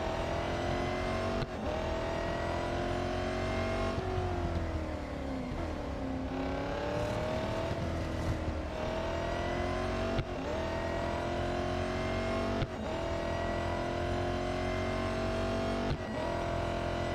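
Race cars in Real Racing 3 roar continuously with engines revving and shifting gears, their pitch rising and falling through the laps as rivals pass close by, loud and steady throughout.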